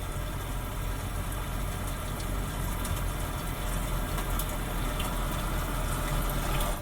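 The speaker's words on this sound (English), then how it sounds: "Rainy Day." Rainy day ambience from the Bose 8-speaker system of a 2022 Hyundai Tucson: continuous hissing rainfall with faint scattered ticks and drips, steady and moderately loud, with no talking.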